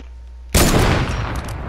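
Hunting rifle shot in Fortnite: after a brief quiet, a single sharp, loud gunshot bursts in and rings out with a long, bright tail.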